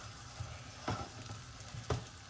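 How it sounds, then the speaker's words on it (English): Seafood fried rice sizzles quietly in a pan, a steady low frying hiss broken by a few soft scraping stirs of the utensil, with no voices. "and that's because the rice is actually frying."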